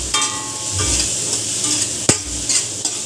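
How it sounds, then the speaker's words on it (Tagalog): Kamias (bilimbi) sautéing in a pan for coconut-milk braised yellowfin tuna jaw gives a constant sizzle, broken by stirring scrapes and one sharp utensil clank near the middle. "Igisa na rin natin yung kamyas."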